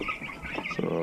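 Brown hens cluck on a farm near turkeys and broilers, a few close, quick clucks and squawks in a brief burst, no talking.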